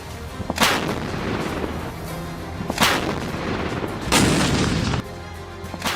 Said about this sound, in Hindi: तो 76वें स्वतंत्रता दिवस पर हमेशा की तरह राष्ट्रीय ध्वज को 21 तोपों की सलामी दी गई